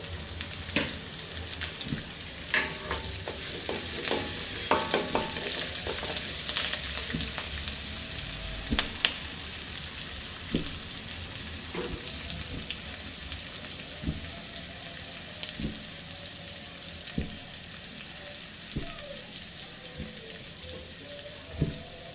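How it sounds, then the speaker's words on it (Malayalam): Garlic, ginger and green chili fry in a pan for dragon chicken, giving a steady sizzle broken by scraping and clinking from stirring. "വെളുത്തുള്ളി, ഇഞ്ചി, പച്ചമുളക്, ഇത്ര സാധനങ്ങളൊക്കെ മൂക്കട്ടെ കേട്ടോ."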